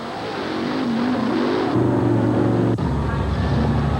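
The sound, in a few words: monster truck engines at arena show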